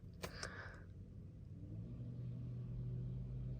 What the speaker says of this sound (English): This is the fan of the car. Let's just say test to see if it works.